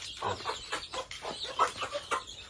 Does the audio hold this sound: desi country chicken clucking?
yes